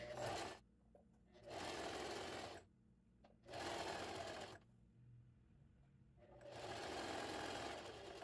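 A sewing machine runs long, widely spaced basting stitches through fabric for a scarecrow candy holder, in three close, steady whirring bursts separated by short pauses.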